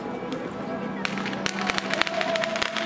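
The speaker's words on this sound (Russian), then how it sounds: "Заливают все эти фейерверки пошла на улице красота." New Year fireworks going off outside, a run of sharp cracks and pops from a distance that grows denser toward the end, while a person talks over them.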